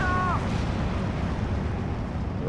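Artillery cannon fire in the Steel Division 2 war game, a deep, rumbling boom that rolls on as a broad low roar across the whole stretch, with a brief tonal whine at the start.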